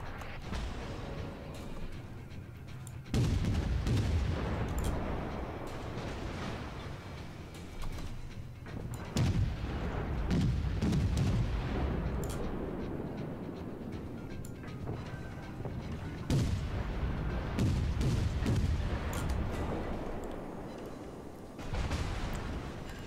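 Naval artillery fire in the World of Warships game, heavy booming salvos and rumbling explosions recurring through a loud, dense battle soundscape.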